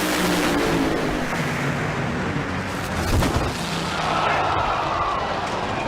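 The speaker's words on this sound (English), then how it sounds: "But that red, white, and blue Auto Cup Chevrolet, about 250 feet or so, went kaboom." A red, white and blue Chevrolet drag car exploding during an NHRA run, a loud rumbling roar with a sharp blast midway, thick crowd and engine noise throughout.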